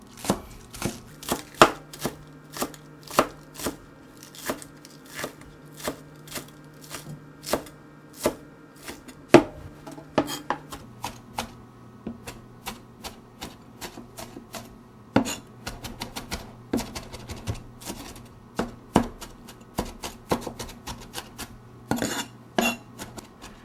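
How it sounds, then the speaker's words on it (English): Green onion is finely chopped with a knife on a board, a long run of crisp, close knife taps in quick irregular bursts with brief pauses between. "What you want to do is finely chop the green onion"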